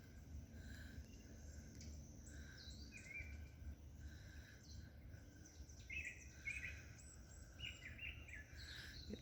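Faint outdoor birdsong: several small birds chirp and trill in scattered short phrases over a low, steady background rumble, all quiet and at a distance.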